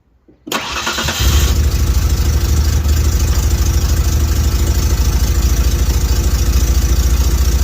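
A rebuilt 3.0L V6 in a 1992 Ford Ranger cranks and catches, then settles into a loud, steady, rumbling run with a faint tick, close by and with no voices.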